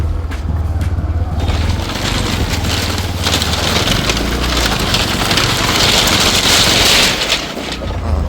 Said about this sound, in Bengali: দীপঙ্কর বাইক যাবে